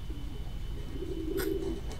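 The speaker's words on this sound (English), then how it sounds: "This carrier frequency pigeon possesses top secret information." A pigeon coos in the video game Jazzpunk, giving a short, soft, low warbling call that sits over a quiet background hum. A faint click sounds near the end of the call.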